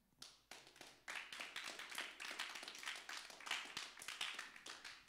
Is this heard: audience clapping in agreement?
yes